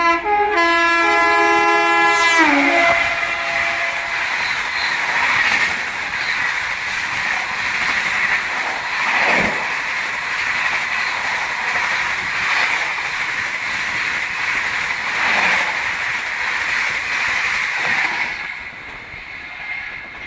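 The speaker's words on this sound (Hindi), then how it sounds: "हावड़ा दुरंतो फ्लैट 130।" Howrah Duronto Express overtaking at 130 km/h: a loud train horn blast opens, then a sustained roar of the express rushing past close by, with rail clatter and wind noise swelling and easing over about twenty seconds.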